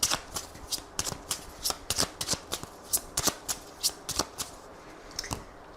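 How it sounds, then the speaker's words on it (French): A deck of Lenormand cards is shuffled by hand for a reading, giving a close, crisp series of rhythmic riffling slaps and flicks with no talking. "on va faire un tirage en 15 cartes pour voir ce qui va se passer"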